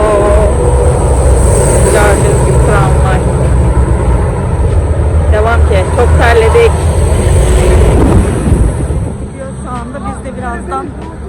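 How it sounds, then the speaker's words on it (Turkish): A train rumbles past close by in Istanbul's Haliç (Golden Horn) area, a loud continuous roar with rhythmic clatter, easing slightly toward the end; a voice talks faintly over it. "Tren gidiyor."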